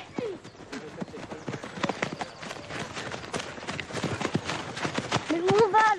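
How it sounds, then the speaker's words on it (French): Horses' hooves clip-clop steadily on a hard surface, a rapid uneven patter of hoofbeats close by, with people talking over them and a brief whinny-like cry near the end. "Ah, les chevaux, voilà."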